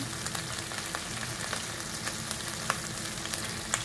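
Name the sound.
garlic paste and masala frying in a pan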